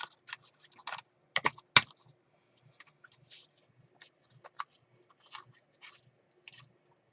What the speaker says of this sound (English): Henry has a full-size external keyboard that he can connect to his iPad